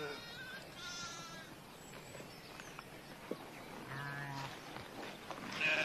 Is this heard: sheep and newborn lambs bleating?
yes